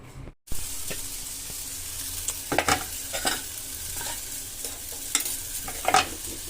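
Masala for a dry paneer curry fries in a pan with a constant sizzle, broken by repeated scraping stirs of a spoon that come in short bursts throughout, close by and without any speech.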